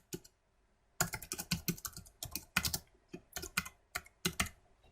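Someone types a short folder name on a computer keyboard, a close, quiet burst of rapid key clicks in uneven clusters after a brief pause.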